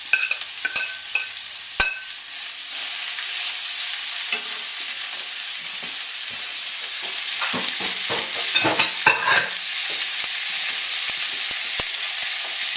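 Orange bell pepper frying for fajitas in a pan still holding meat juices, a steady close sizzle throughout with stirring scrapes and clinks growing busier toward the end.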